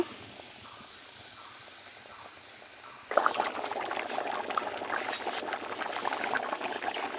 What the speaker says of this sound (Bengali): ঝোল ফুটে গিয়েছে